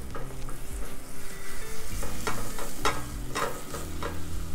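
French omelette cooking in butter in a pan, a steady close sizzle with scraping and stirring strokes running through, fairly loud and continuous.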